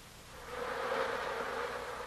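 Bees buzzing at a beehive entrance, a dense steady hum that swells slightly and stays soft and close, with no voices.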